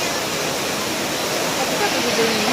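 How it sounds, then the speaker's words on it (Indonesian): Strong floodwater rushing through a river during flooding in the Depok and Jakarta area, a loud, steady, unbroken roar with no pauses. "Airnya kencang banget gini ya."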